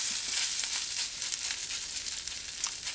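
Latkes fry in a skillet with a steady, dense sizzle and faint crackling pops throughout, close and fairly quiet, with no voices.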